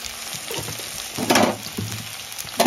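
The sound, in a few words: tomatoes and green chillies frying in a pan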